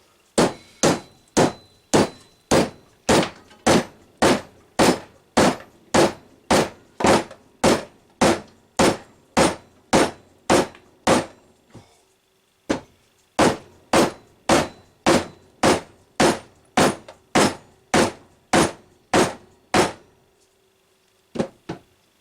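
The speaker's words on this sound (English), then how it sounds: "Different hammer." Steady hammer blows strike wood in a regular rhythm, over thirty sharp hits with a brief pause midway, loud and close.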